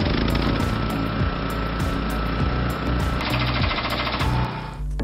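Electric generators run loudly and without a break during load shedding, a dense mechanical clatter with a steady pounding rhythm that fills the whole stretch before cutting off at the end.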